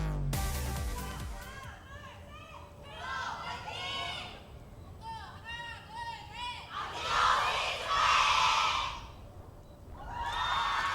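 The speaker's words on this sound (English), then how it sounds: "they're making a cheer for Waka Waka" Crowd of fans at an Overwatch Apex Season 4 esports match chanting and cheering in rhythmic waves, swelling into a loud roar near the end, with voices mixed in throughout.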